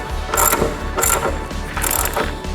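Ratchet wrench tightening the front axle nut on a budget V-twin cruiser motorcycle, three close bursts of rapid clicking separated by short pauses, no talk.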